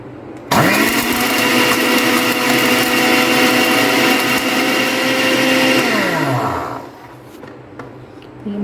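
An electric grinder blending whole spices into powder roars loudly and steadily for about six seconds, then winds down and stops, leaving quiet room sound.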